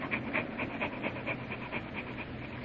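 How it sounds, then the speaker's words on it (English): A dog named Corky pants in quick, rhythmic breaths, about four per second, close and moderately loud, with no talking over it. "Corky, go shake yourself somewhere else."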